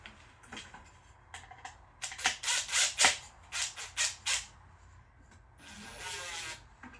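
Screws are driven into a homemade wooden mouse trap, giving a run of quick ratcheting, squeaking turns in short bursts, close and fairly quiet with no talk.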